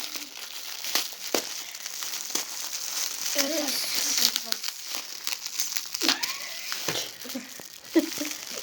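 Crinkly wrapping on a tightly wrapped gift package rustles and crackles almost continuously as it is pulled open, close and fairly loud, while people talk and laugh over it.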